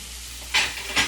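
Scallops searing in a hot pan give off a steady close sizzle, with two brief louder hissing bursts as they are stirred or turned.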